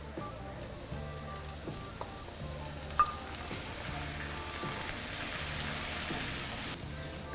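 Fresh tomato puree for Mexican rice sizzles in a pan, a soft, even hiss running under steady background music, with no one talking.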